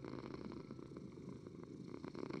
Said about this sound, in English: it sounds like a cat purring